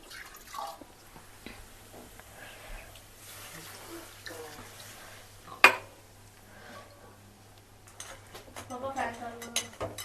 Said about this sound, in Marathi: आता याच्यात थोडंसं खेकडे बुडतील इतकं पाणी टाकूया